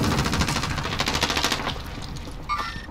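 Rapid automatic gunfire in a Call of Duty Warzone match, dense bursts of shots in the first second and a half, then thinning out with fainter distant shots and a brief metallic tone near the end.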